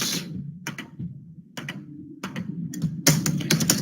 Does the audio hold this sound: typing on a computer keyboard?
yes